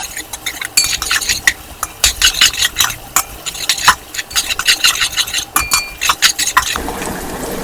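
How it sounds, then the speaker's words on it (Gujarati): Sliced onions are stirred and fried over a full gas flame for beef nihari. A spatula scrapes and clinks against the pan in frequent irregular strokes over a continuous close sizzle. "ફૂલ ગેસ ઉપર આપણે એને ફેરવતા રહીએ કે જેથી આપણી ઓનિયન સરસ ગોલ્ડન બ્રાઉન"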